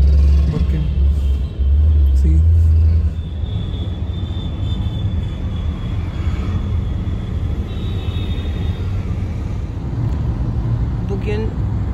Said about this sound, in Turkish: Çok trafik var yalnız.